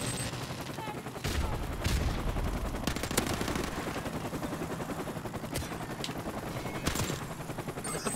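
Call of Duty Modern Warfare Remastered match on the Shipment map: an enemy helicopter drones overhead amid sustained bursts of automatic gunfire and sharp loud shots, dense and chaotic throughout.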